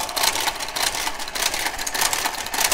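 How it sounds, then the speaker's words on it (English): A garter carriage runs along the needle bed of a Brother KH-965 knitting machine with a Compuknit III/KG-93, giving a steady, close whirring clatter with rapid mechanical ticks throughout, no voices. "we're going to wait for the garter carriage to clear the last stitches"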